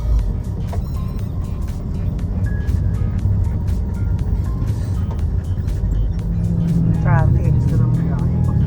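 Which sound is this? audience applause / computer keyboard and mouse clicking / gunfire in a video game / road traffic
road traffic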